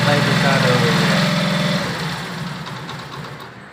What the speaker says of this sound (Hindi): ये देखें, प्लग के बगैर जो मोटरसाइकिल बाइक स्टार्ट हो गई है।